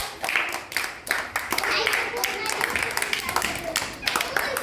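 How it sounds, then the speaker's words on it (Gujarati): Children in a classroom clap their hands together in a fast, uneven patter of sharp claps, with voices talking over it throughout. "તાળી પાડી દો બધાય"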